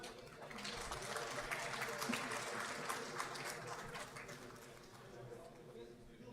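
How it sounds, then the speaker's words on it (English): Audience at an international 6G standardization workshop gives a round of applause, a moderate sustained patter of many hands, not very loud, with some faint talk and room hum beneath. "A big round of applause"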